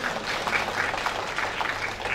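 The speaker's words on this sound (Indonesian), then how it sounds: "Tepuk tangan untuk kita semua dulu." Moderately quiet applause rises from an audience at a professional oath ceremony in Jambi, a steady patter of many hands clapping with no one speaking over it.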